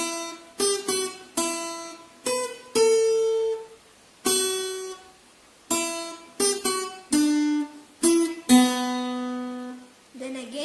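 An acoustic guitar picks a melody one note at a time, each plucked note ringing and fading, some held longer, played alone with no talking.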